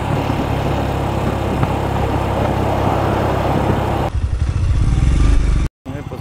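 A Royal Enfield Scram 411 motorcycle being ridden, its engine droning loud and steady with wind rush, then a rougher, choppier stretch near the end before a brief cutout.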